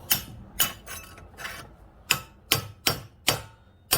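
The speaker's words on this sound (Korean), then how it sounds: "딱 걸은 다음에 망치로 가격을 해서 탈착을 해주시면 돼요" A hammer strikes a rod hooked diagonally behind a needle bearing in a Forza 350/300 scooter's chassis to knock it out. Nine sharp metallic blows land close up at an uneven, roughly half-second rhythm, with no talking.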